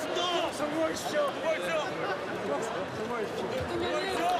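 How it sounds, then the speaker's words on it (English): Crowd cheering President Moon Jae-in, probably at the 2018 inter-Korean summit: a steady, dense roar of many voices with shouts and chatter, continuous throughout at moderate loudness. "The crowds are cheering President Moon Jae-in."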